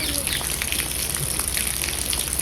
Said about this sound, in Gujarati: આખો ઊંડો વરસાદ ચાલુ છે